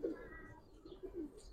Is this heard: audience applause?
no